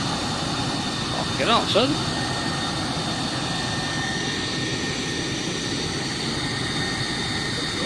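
A homemade rocket stove forge roars with its blower on speed 2, a loud, steady, close broadband rush that holds through the whole stretch while a man swears briefly over it.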